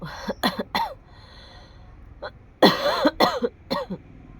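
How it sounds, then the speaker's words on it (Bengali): Close, harsh coughing comes in two clusters of rough bursts, separated by a short quiet pause with a faint throat sound. "কাশিটা প্রচণ্ড কাশি"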